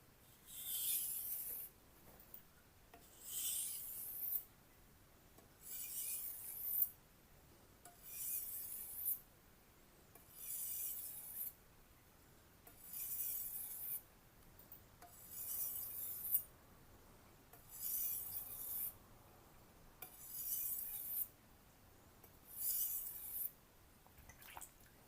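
A knife drawn across a Naniwa Super Stone 1000-grit water stone in steady, regular wet strokes, each a soft hissing rasp with a slight clink, repeating about every two seconds, close and fairly quiet with no talk.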